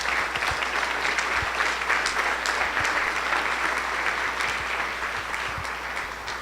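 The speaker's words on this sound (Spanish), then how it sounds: "denle un aplauso al Rey, por favor" Steady applause from a church congregation during a Sunday service, many hands clapping continuously throughout, dense and sustained at an even level with no speech over it.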